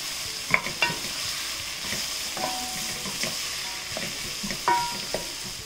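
Onions sautéing in a pan, a steady sizzle under intermittent scraping stirs and a few sharp clicks of the spoon against the pan, with no voices.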